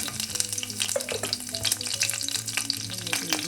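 Mustard seeds, curry leaves and green chillies crackle and sizzle in hot coconut oil, a loud steady frying hiss with sharp popping spits throughout and no talk.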